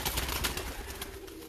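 Pigeons coo softly amid a busy, noisy background, low throaty calls blending with rustling and general clamour at a moderate distance.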